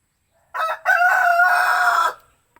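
A rooster crows once in a single loud, close call, with a short opening note, a brief break, then a long sustained crow before it cuts off. No one speaks.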